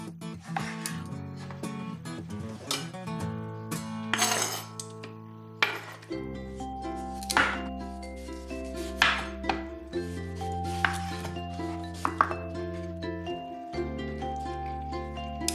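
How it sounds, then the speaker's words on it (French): Knife chopping tomatoes on a board for a cold watermelon-tomato soup, a steady run of crisp close taps and clinks, loud and alone with no talk. "on va venir d'abord découper un petit peu nos tomates qu'on va mixer ensuite avec nos pastèques"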